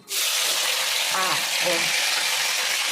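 Chopped tomatoes hitting a hot frying pan for tomato chutney, a sudden loud sizzle that holds as a close, steady hiss with some faint stirring and brief clatter underneath.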